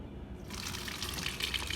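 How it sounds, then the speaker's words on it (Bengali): Milk is poured from a bottle into a pan for boiling, a brief, quiet liquid pour that begins after a short pause and flows steadily to the end. "তো দুধ হচ্ছে এখন ঢেলে নিব"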